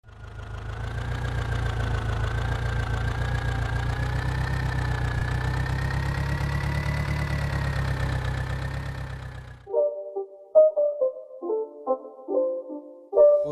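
Tractor engine from the mobile game Indian Tractor Simulator runs with a steady, loud low idle for about ten seconds, then cuts off and gives way to short melodic game jingle tones.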